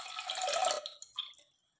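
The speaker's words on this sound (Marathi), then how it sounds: "आता 1 इंचापर्यंत वरती पाणी घालूया" Water is poured over wheat grains in a cooking pot: a short splashing pour of under a second, then a few light drips trail off into silence.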